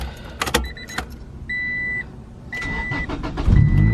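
A car that won't start gets a turn of the key. A couple of clicks and brief cranking bursts are heard, separated by steady warning chimes, and a low rumble swells at the end.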